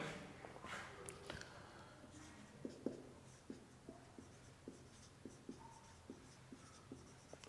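A teacher writes more maths questions on a board during a squares and square roots lesson, producing a steady run of short, distinct chalk taps and strokes, close and fairly quiet over faint room noise.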